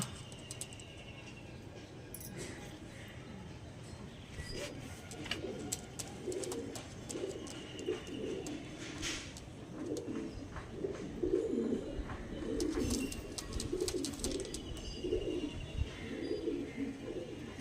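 Pigeons coo in repeated soft, throaty phrases over a steady background hum, the calls fairly close and rising and falling in a loose rhythm, with no voices.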